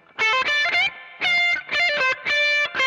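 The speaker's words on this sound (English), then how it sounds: "This section is a more aggressive overdrive." Aggressive overdrive from the baked mod section of a Keeley Tone Workstation pedal under electric guitar, loud distorted chords and bends played in several short bursts with brief gaps between them, no voices.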